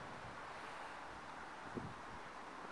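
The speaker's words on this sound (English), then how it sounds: "it's a bit blustery" Blustery, cold morning wind blowing outside a hotel beside a lock in Orkney, a steady, broadband rush buffeting the microphone with little variation.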